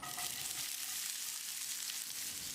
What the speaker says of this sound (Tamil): வெங்காயத்தை கண்ணாடி பதத்துக்கு வதக்கினா மட்டும் போதும்